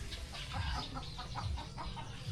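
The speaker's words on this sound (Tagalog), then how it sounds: "So kaya mahapon yung mga manok na yan." Chickens clucking in a rural yard near a hut, soft rapid clucks repeating against a faint background.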